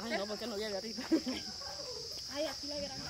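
A high, continuous cicada buzz drones steadily through the night while people talk nearby.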